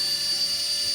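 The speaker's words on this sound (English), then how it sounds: "Do not try this at home with dangerous toy helicopters." A small RC toy helicopter whines steadily, a continuous high-pitched motor buzz held close and loud for a brief moment.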